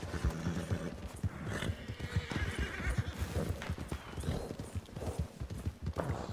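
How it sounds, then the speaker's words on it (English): Horses in a video game gallop with rapid clip-clop hoofbeats and repeated loud neighs and whinnies, a busy, continuous mix of hooves and calls up close. "Dude, these horses. Keep running back and knocking me down."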